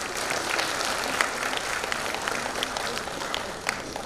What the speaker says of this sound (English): Please give a round of applause for everyone.